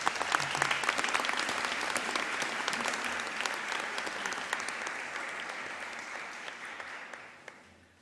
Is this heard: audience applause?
yes